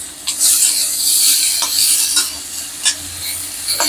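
Papaya, sweet potato, beans, carrot and banana stir-fried in a kadai, with loud sizzling and repeated scraping of a spatula against the pan, several distinct clatters standing out, no speech.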